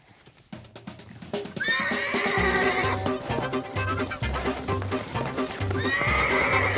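A young colt raised on an Alabama ranch neighs loudly in long whinnies, with hooves clopping and stamping close by throughout.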